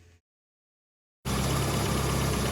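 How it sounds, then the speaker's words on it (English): After a brief silence, a Mini Clubman's MLMotorsport rebuilt standard engine idles loudly and close, a steady dense rumble with no talking. "We've got a nice MLMotorsport rebuilt standard engine in this one."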